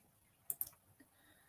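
A computer mouse clicks twice in quick succession, faint and close, followed by a softer third tick, with no voices over it.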